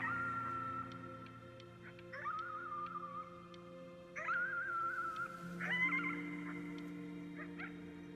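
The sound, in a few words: dog howling at the moon, from the video game Before Your Eyes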